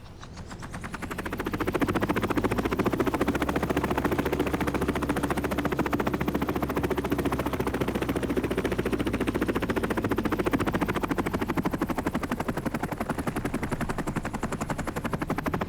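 A helicopter in The Last Caretaker video game flies close and loud, its rotor chopping in a fast steady pulse over a deep engine rumble, alone without talk.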